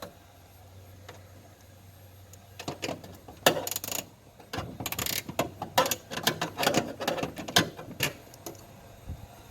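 A wrench loosens bolts while aftermarket LED taillights are fitted to a 2018-2020 Honda Accord: quiet at first, then dense bursts of ratcheting clicks and metallic rattles, close and fairly loud, in uneven spurts.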